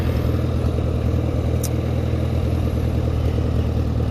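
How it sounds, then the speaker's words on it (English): A farm tractor idles near the barn after baler cleaning, a steady loud low rumble with an even pulsing throb throughout and no talk. "tractor's making noises"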